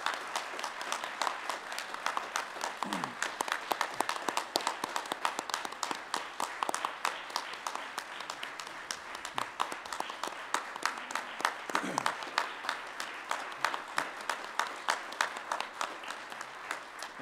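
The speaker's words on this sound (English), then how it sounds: "Would you give Pastor Crum another round of applause?" A church congregation applauds at a Sunday morning worship service, sustained clapping from many hands filling the room, steady and fairly loud across the whole stretch, with a few faint voices mixed in.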